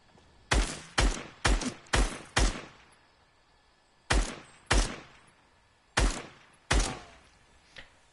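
Shotgun in Fortnite creative mode fires nine loud, sharp blasts in two bursts, five in quick succession, a pause, then four more, each with a short decaying tail, with no talking.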